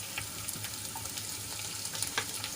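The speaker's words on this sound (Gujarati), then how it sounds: "અને લાલ થાય ત્યાં સુધી આપણે એને સાંતળી લઈશું" Garlic cloves sautéing in hot oil with dried red chili and curry leaves for a fenugreek and papad curry, a steady soft sizzle with faint crackles, fairly quiet and with no voices.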